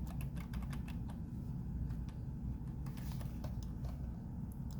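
A password being typed on a computer keyboard: a steady run of quick, close keystrokes over a low background hum, with no voices.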